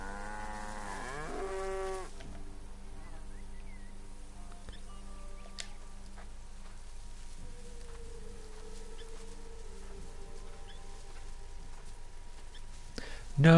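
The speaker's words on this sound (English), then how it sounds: "Hello, cow." A cow in the video game Assassin's Creed Origins gives one drawn-out, wavering moo near the start, followed by quiet ambient farmyard background with faint bird and animal sounds.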